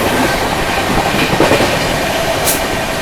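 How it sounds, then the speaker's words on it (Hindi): Rajdhani Express passenger train running at speed past Khagaria Junction in India, a steady loud rumble with rail rattle and clatter of the carriages throughout, no voices. "अपनी ट्रेन निकल गई है।"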